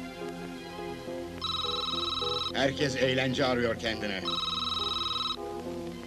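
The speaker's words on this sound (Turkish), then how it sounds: "Çek şu telefonun fişini." A telephone rings in two steady electronic bursts, clear and close, in a 1990 Turkish film scene, with a voice speaking between the rings.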